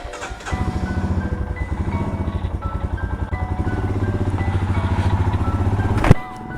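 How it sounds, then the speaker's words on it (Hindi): A motorcycle engine in poor condition, started after a long time unused, idles nearby with a rapid, even putter that holds steady, then a brief sharp clank near the end. "बड़े दिनों के बाद इसको स्टार्ट करा है बाइक को।"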